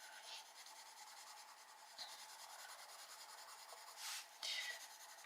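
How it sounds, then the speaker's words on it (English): Coloured pencil rubbing against a desk while colouring a picture, a quiet continuous scratchy friction that swells in a few louder strokes, heard alone. "Pencil's very noisy against this desk."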